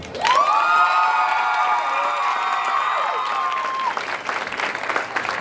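An audience at a school carnival event honors its carnival queen with sustained applause and cheering, joined by a loud, drawn-out whistling or horn-like tone for several seconds before the clapping continues on its own.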